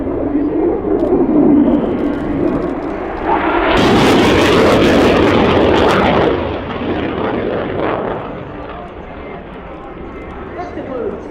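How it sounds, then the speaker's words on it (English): An F-35 fighter jet on a flying display at RIAT, its engine roar swelling loud and close as it passes, then fading into a distant rumble, with commentary over a PA. "The F-35 will now reposition for the mid-speed pass."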